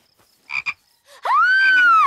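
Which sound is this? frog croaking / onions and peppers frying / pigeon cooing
frog croaking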